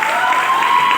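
Audience applause for CMD Jaiprakash Tyagi at a KRS Group network marketing event: a brief, steady burst of dense clapping, loud and continuous with a faint tone running through it.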